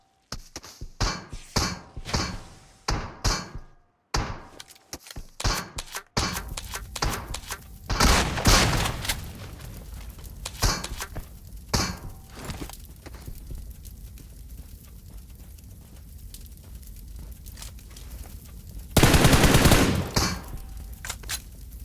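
Gunfire in a Turkish competitive online shooter match, with rapid bursts and single shots crackling at varying distances, some close and loud, others faint, spread across the clip alone without talk.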